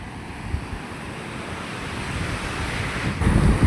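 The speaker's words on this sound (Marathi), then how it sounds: "खूप मोठा बीच आहे आणि एकदम साफ पाणी आहे." Surf rolls steadily onto a wide, clean-water beach at Gokarna, a continuous roar mixed with wind buffeting the microphone that swells louder toward the end, with no voices.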